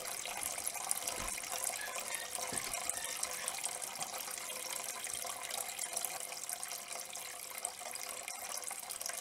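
Fast-flowing river water rushing steadily over rocks, a dense continuous wash of broadband noise held at even loudness throughout, with no voices.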